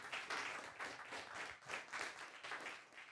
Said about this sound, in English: Round of applause for Connor, please.